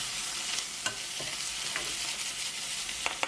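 Hong Kong kale, carrot and shiitake mushrooms stir-frying in garlic-infused oil in a wok, a steady close sizzle broken by intermittent scraping stirs of the spatula, with no talking.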